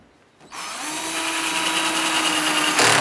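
An old battery-powered drill drives screws, with a steady high whine that starts suddenly, holds for a couple of seconds at close range and rises briefly at the end.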